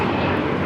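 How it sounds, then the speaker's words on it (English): Delta Air Lines Airbus A321 jet taking off at Los Angeles airport, bound for Atlanta: a steady, loud broadband engine roar with no break, sounding fairly close. "This is Delta Airlines 528 taking off to Atlanta on the A321"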